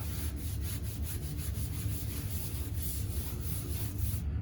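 A wet sponge rubs over drywall to smooth the joint compound, making a close, steady scrubbing hiss in quick repeated back-and-forth strokes that carries on without a break and with no talking.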